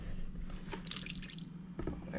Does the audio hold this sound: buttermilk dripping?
yes